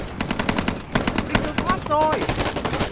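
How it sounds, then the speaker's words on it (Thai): Rapid bursts of AK rifle fire crackle through a Vietnam War video game battle, dense automatic volleys close by with a brief lull before shooting resumes, a few tonal game sounds mixed in. "เฮ้ยเสียงเอเค"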